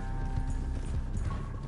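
Horse hooves clip-clop steadily in Red Dead Redemption 2 Online on PS5, a continuous moderate trotting rhythm under low game ambience and a faint tonal hum.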